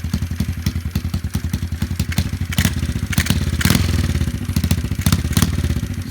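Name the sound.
90cc pit bike engine kick-started and running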